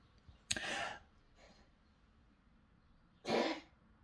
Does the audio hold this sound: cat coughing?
yes